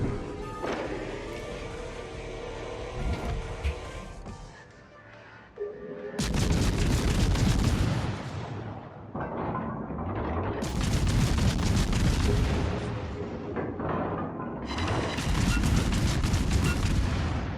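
Naval guns on the cruiser Worcester fire in the game World of Warships, sounding as booming, rumbling salvos that come in heavy repeated bursts with deep reverberant tails.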